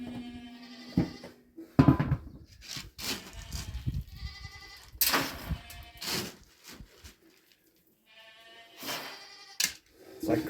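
Farm goats getting excited as grain is handed out, bleating loudly in repeated bursts close by, with some rustling and knocking between calls.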